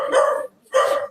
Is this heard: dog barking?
yes